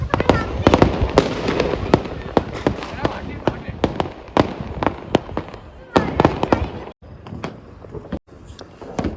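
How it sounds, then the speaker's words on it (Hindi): Firecrackers bursting outdoors during a Diwali night celebration, heard from a rooftop as rapid, loud overlapping bangs and cracks in dense bursts with brief gaps, near and distant explosions mixing with faint crowd voices. "बम दिखा फूट तो भाई सक्सेसफुली फूट गो"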